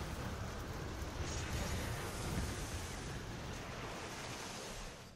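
Large rushing whirlpool waves from a water-power attack in the City of Heroes Homecoming video game, a steady broadband surf-like roar that swells and churns continuously without a break.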